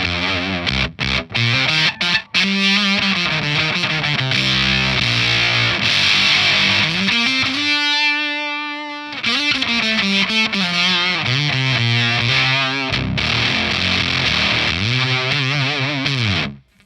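Electric guitar played through a Fender Hammertone octave pedal, a loud, thick, fuzzy tone with an added lower octave, strummed chords and sustained notes that briefly thin out in the middle before the heavy playing returns, with no talking.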